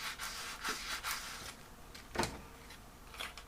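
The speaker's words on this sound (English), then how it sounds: "Now I can more aggressively burnish this." Paper on a Tonic Studios presentation gift box being burnished with a tool: a few soft, scratchy rubbing strokes, close and quiet, with one slightly louder swipe partway through.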